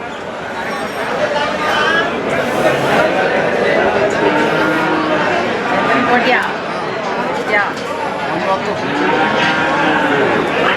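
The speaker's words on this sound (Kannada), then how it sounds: "ಒಳ್ಳೆ ದೊಡ್ಡ ಎತ್ತುಗಳು ಚೆನ್ನಾಗವೆ" Hallikar bulls low now and then amid a busy cattle market din in Nanjangud, with people talking and crowd chatter close by.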